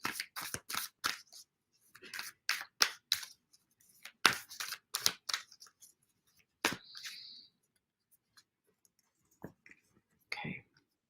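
Stiff oracle cards being shuffled produce a series of sharp, crisp riffling bursts and snaps in quick clusters, close and fairly quiet, with pauses between groups and a brief whispered voice near the end.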